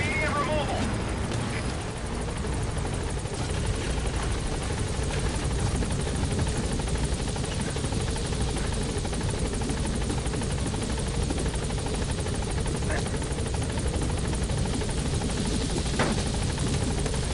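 Pequod, the support helicopter in Metal Gear Solid V, flies with a constant loud rotor roar and engine drone that fills the whole stretch.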